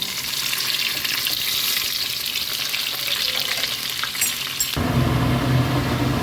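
Chopped onions frying in hot oil with mustard seeds and cumin, a loud steady close sizzle that shifts to a fuller, deeper hissing roar partway through, with no voices.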